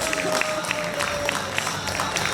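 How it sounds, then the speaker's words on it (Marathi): An audience at a school annual day function breaks into applause for backstage helpers, a loud, dense, continuous patter of clapping with crowd murmur mixed in. "सो एक जोरदार एकदा टाळ्या झाल्याच पाहिजेत त्यांच्या एफर्ट्ससाठी"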